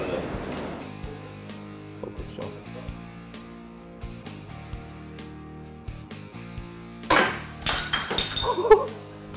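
An object is smashed for high-speed photography, giving a loud crash with scattered clinks and crunching debris near the end, after a quieter stretch of faint thuds and background hum.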